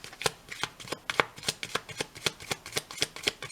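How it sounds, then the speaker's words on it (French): A deck of cards being shuffled by hand, a steady run of crisp riffling snaps close by, about a dozen quick bursts with no voices. "J'ai bien mélangé les cartes."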